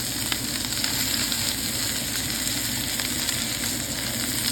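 Steak searing in a hot pan, a steady, loud broadband sizzle with constant crackle and spatter running throughout, no voices over it.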